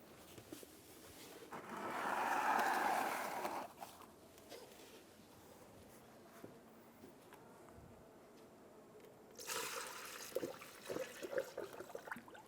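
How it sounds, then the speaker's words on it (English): Coolant is poured through a funnel into the radiator of a 2003-2007 Infiniti G35, a soft liquid rush that swells for a couple of seconds, then fainter trickles and clinks, with a second burst of pouring toward the end. "I'm going to install a funnel to refill our coolant."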